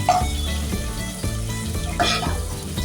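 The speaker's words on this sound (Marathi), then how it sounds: "आता आपण त्यात घालूया कांदे हे ना आपण बारीक चिरून घेतलेले आहेत हे छान परतवून घेऊया आपण" Finely chopped onions sauté in a pan for a jackfruit biryani, a loud close sizzle with repeated scraping stirs and occasional utensil knocks against the pan, no voices.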